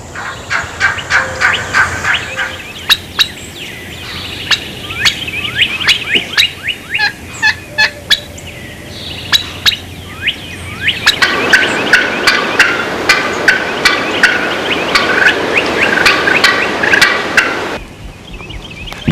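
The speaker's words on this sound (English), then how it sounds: "Like people, turkeys have different voices and they produce personalized sounds" Wild turkeys call repeatedly in the open, a long run of loud rapid gobbles and yelps that shifts to a denser, noisier stretch of calling before cutting off near the end.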